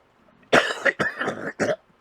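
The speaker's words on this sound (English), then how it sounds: "So please forgive us for the coughing." A single person coughs up close in a short, harsh cluster of about four rough bursts, loud against an otherwise quiet background.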